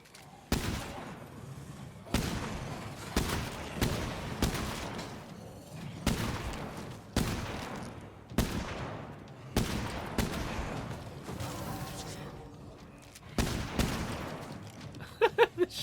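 Shotgun blasts from State of Decay 2, a heavy boom roughly every second or two, each trailing off before the next, loud and close throughout.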